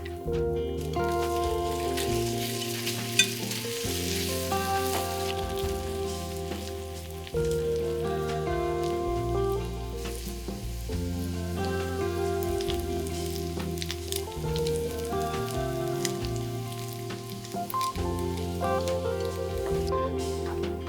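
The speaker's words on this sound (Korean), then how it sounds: "버터를 녹여 노릇하게 구우면 고소한 버터 향이 쏙 밴다." Butter melts and sizzles in a hot pan as potatoes toast golden, a steady, soft frying hiss running throughout beneath a background of music.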